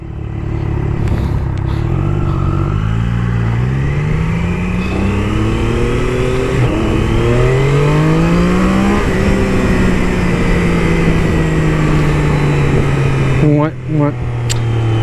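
A Triumph Daytona 660 motorcycle engine runs loud and steady throughout, its pitch climbing and falling through repeated revs, with a brief dip near the end.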